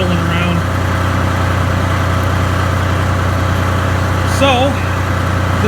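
A hay tedder is driven at about 1100 RPM, giving a loud, steady mechanical drone with a constant low throb and no pauses. A brief voice-like warble briefly rises above the hum.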